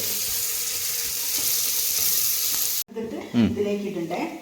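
Onions frying in a pan for a kalathappam garnish make a loud, even sizzle for nearly three seconds, then cut off abruptly and give way to a voice and some clatter.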